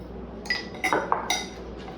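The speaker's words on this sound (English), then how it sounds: "give it a lovely little stir" A spoon stirs cucumber pickles with salt in a bowl, tapping the dish in four or five light, bright clinks spaced across a quiet moment.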